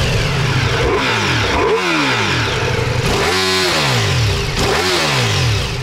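A Ducati Multistrada V4 S motorcycle engine idles loudly, its low rumble rising and falling in a few short revving swells, with no voices; the rear two cylinders deactivate when stopped.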